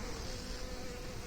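Honeybees hum in a dense, continuous buzz around a farm beehive, close and steady with no voices.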